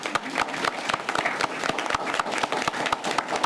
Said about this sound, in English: even though we just clapped for Ms. Sheila, I think she deserves another round of applause for this outstanding recognition.